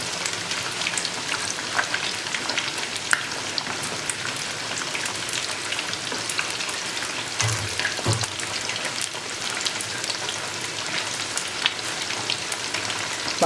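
Sausage and garlic deep-fry in hot oil with a steady, close crackling sizzle and scattered pops throughout, with no voices.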